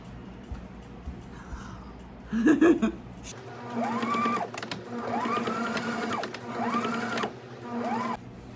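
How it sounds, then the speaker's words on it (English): A sewing machine runs in short straight-stitch bursts, four separate runs with brief pauses, reinforcing a corner of a thrifted quilt being made into a quilt coat; a faint chuckle comes just before the stitching. "Right here in this corner and reinforce it with just like a straight stitch."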